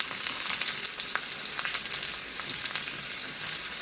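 Crushed garlic sizzling with asafoetida in hot oil for Vidarbha-style khichdi, a steady close crackle and spit of frying throughout.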